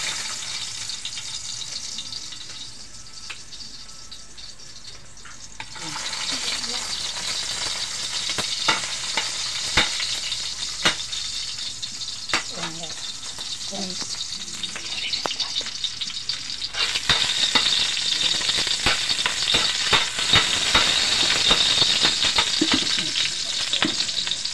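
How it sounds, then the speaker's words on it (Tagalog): Garlic and onion sautéing in hot oil in a pan make a continuous close sizzle that grows louder midway, broken by sharp clicks and scrapes of stirring, with no talking. "Igisa na natin yung bawang at sibuyas."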